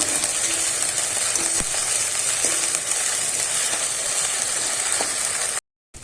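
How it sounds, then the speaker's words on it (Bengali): Ginger-garlic paste fries in a pan with a steady, close hiss of sizzling oil, broken by a few light clicks as the paste is stirred, before cutting off abruptly near the end. "একটুখানি আমি নাড়িয়ে কিন্তু ভেজে নেব আদা রসুনটা যাতে কাঁচা গন্ধটা না থাকে"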